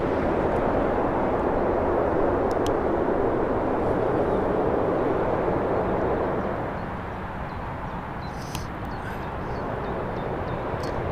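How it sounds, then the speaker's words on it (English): An easyJet airliner at Birmingham airport rolls onto the runway, its jet engines a loud broad continuous roar that eases slightly partway through, heard from a distance outdoors with faint intermittent noises. "the EasyJet's swinging its way onto the runway"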